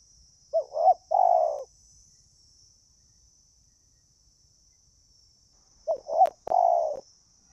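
Two short bursts of soft, hollow cooing calls from a decoy zebra dove, separated by a long pause, over a faint high insect-like hum.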